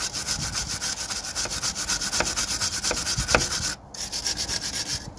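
Rusted car suspension bolts on a Vauxhall Astra J being scrubbed with a wire brush in fast, steady back-and-forth strokes, close and loud, with one brief pause near the end.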